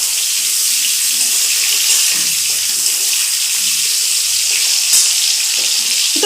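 Chopped tomato and cinnamon sizzle steadily in hot oil for a fish curry, a loud continuous hiss with small pops and a few stirring scrapes.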